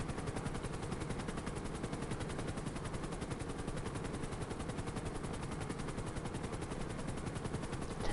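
Helicopter flying during a race in GTA 5, a loud continuous rapid rotor chop with dense broadband engine noise, steady and close throughout with no talk.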